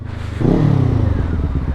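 A Kawasaki R250-class motorcycle fitted with an Akrapovic exhaust revs up hard and close, a loud, rasping surge that holds for over a second with crackling texture.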